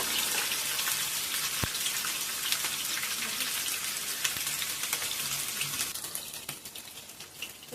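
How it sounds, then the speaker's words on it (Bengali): Soybean chunks fry in a small amount of oil, giving a dense, even, rain-like hiss with fine crackles throughout and a single sharp tick early on, steady and close. "প্রথমে সোয়াবিনগুলো ভেজে নেব।"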